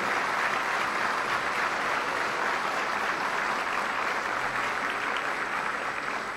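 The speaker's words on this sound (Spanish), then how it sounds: "Un aplauso cariñoso para todos" Warm applause from the audience at a 2023 school graduation ceremony, a full, steady wash of clapping sustained evenly across the whole stretch with no speech over it.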